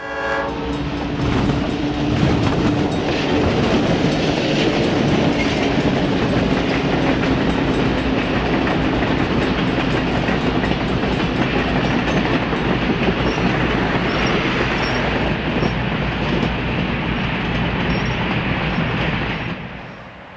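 B&O train approaching a depot, a loud continuous rumble of wheels and clickety-clack with a horn sounding early on, building close and then easing off at the end.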